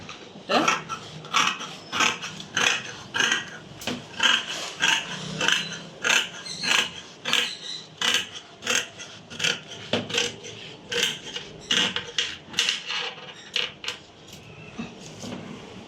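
Scissors cut through cloth folded in two in a long series of crisp, rhythmic snips, close and fairly loud, with no talking.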